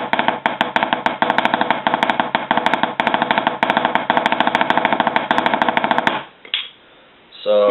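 Rapid, steady sticking on a Xymox practice pad with a hard playing surface, dense even strokes running nearly continuously, close and loud, then a brief pause and a few final hits.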